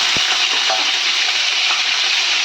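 Ground onion, ginger and garlic paste fries in oil with a steady, loud sizzle throughout, and a brief stirring scrape is heard near the start.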